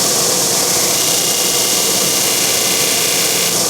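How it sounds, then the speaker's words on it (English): A power sander lightly sanding a guitar, heard as a steady loud hiss and whir that runs continuously without pause and with no talk over it. "I'm barely kissing the sander."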